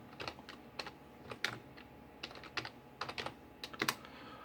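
Fingers tap quickly on a computer keyboard in short, uneven bursts of soft clicks, faint and close, with no voices.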